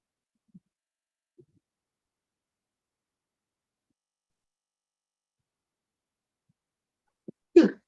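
Near silence with a couple of tiny faint sounds, then a single short, sharp sneeze bursts out near the end.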